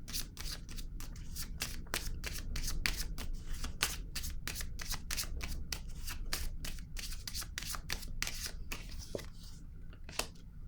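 Tarot-style cards shuffled and handled on a table, a fast continuous run of crisp riffling flicks and shuffles, close and steady with no talking.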